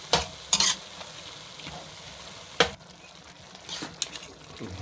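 Ground pork is stirred in a hot pan, with scraping strokes over a steady sizzle and a few sharper clatters of the utensil against the pan, close by and with no talking.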